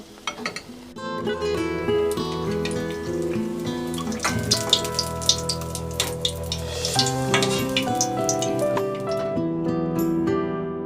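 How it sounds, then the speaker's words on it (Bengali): Malpua pancakes deep frying in oil give off a continuous bubbling sizzle, with clinks and scrapes from a utensil, and music plays over the top. Nobody speaks. "একইভাবে সব মালপোয়াগুলোকে ভেজে নেব"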